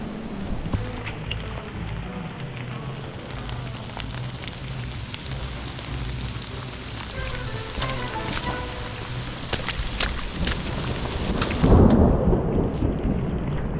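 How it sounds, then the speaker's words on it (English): A thunderstorm on an outdoor hiking trail brings dense, loud hail and rain pelting the surfaces close by, with rumbling thunder underneath and a heavier burst near the end. "It is hailing right now on the trail."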